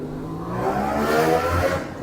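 A Kawasaki road racing motorcycle at the Tandragee 100 road race sweeps past through Pell's Crossroads, its engine note swelling from mid-distance to a loud, high rev before fading, with a commentator talking over it.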